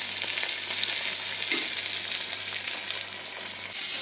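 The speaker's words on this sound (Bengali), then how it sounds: "এই যে আলুগুলো তেলে দিয়ে দিয়েছি" Potatoes frying in hot oil in a home kitchen, giving a steady, close sizzle with soft crackling that holds at an even level throughout, with no voices.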